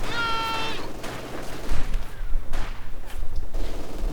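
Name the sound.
gunfire in Company of Heroes 2 video game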